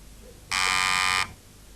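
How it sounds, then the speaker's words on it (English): A quiz show buzzer sounds once during the University Challenge 2004 grand final, a single loud, flat electronic tone lasting under a second against a quiet studio background. "Somebody's gone for the buzzer."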